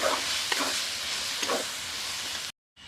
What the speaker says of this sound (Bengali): দিয়ে ভালো করে একটু কষিয়ে নেব আলুটাকে আর সয়াবিনটাকে